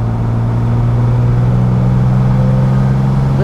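A 1968 Maserati Mistral 4000 sports car engine pulls steadily under acceleration from inside the cabin, a loud continuous drone with strong low harmonics and a faint rise in pitch, no voices over it.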